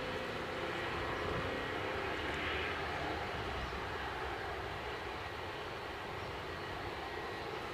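An Embraer jet at Edinburgh airport produces a continuous distant engine roar, steady and fairly faint throughout, with no talking.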